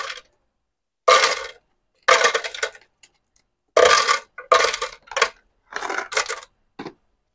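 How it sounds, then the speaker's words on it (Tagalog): Coins dropped one after another into a coin-operated timer converted into a coin changer, sharp metallic clinks in about seven separate bursts with silent gaps between them, close and clear with no talking. "Lagay na natin itong mga barya natin."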